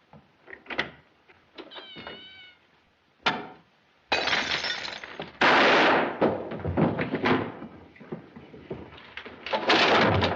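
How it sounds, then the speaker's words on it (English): A gunshot from a 1938 Mr. Moto mystery film: a sharp, loud crack bursts in, then crashing, clattering noise follows close by, with a brief cat-like cry before it. "Where did that shot come from?"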